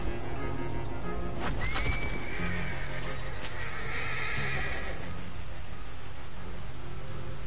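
A horse in the video game Red Dead Redemption 2 lets out a loud whinny, with hoof clops and steady rain over a constant game background.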